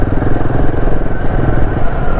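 A Royal Enfield Himalayan 450 motorcycle engine thrums steadily while riding on roads around Manali, a loud close rumble with no pause throughout.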